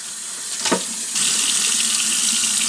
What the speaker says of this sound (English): So you get that rag soapy just like this, and you start washing them